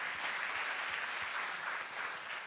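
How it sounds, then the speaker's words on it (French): Steady audience applause at an award ceremony for a new-economy prize in a Swiss town hall setting, a dense continuous wash of many hands clapping at moderate level with no talk over it. "on va les applaudir"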